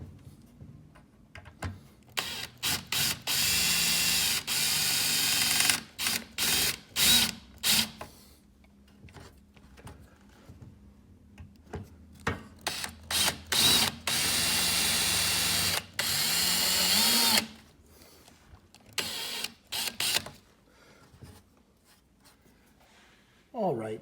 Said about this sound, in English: So let's go ahead and drill this guy out.